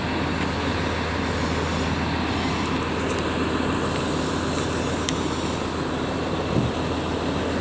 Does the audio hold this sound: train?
yes